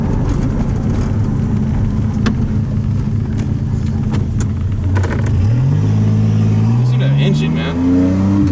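1981 DeLorean DMC with a Stage-2 engine and electronic fuel injection accelerating hard, a loud close engine roar rising in pitch through the gears, with excited voices talking over it.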